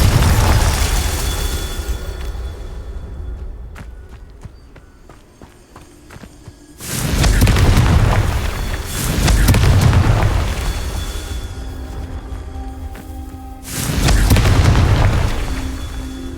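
Booming fire-spell blasts in the Hogwarts Legacy video game, three loud explosive bursts with rumbling tails spaced a few seconds apart, each swelling out of a quieter stretch of game ambience.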